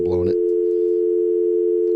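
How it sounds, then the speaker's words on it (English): A steady telephone dial tone carries through a live radio broadcast, holding constant and clear after a brief burst of talk at the start. "He got that dial tone off the show."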